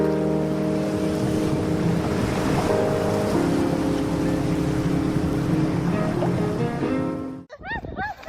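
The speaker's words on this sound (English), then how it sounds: "This black beach in Iceland is beautiful, but it's better not to joke with ice waves." Waves carrying ice wash onto a black sand beach in Iceland, a steady broad rush over a faint tonal hum, cut off abruptly near the end as a voice briefly sounds.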